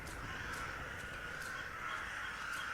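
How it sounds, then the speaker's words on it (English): Crows caw over a dense wash of wind and surf-like noise, with a few harsh calls repeating at irregular intervals against the constant roar. "So there's the birds. They're the birds."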